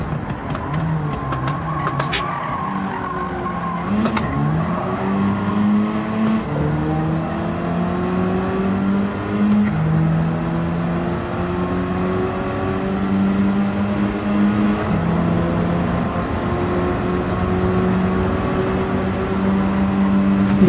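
Race car engines and tires in the Forza Motorsport racing game, a steady whine of revving and shifting engines rising and falling in pitch through gear changes, with sharp transient clicks, loud and continuous without talk.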